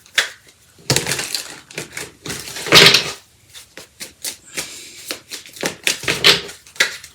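Tarot cards pulled from a deck, a close run of dry papery flicks, riffles and slaps in irregular bursts, some louder than others, with no talk.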